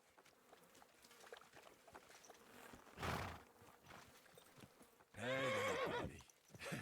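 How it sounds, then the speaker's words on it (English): A horse in the medieval video game Kingdom Come: Deliverance 2 snorts and shifts with soft hoof clops, then gives a loud, close whinny near the end, with no talk over it. "Easy, good horse."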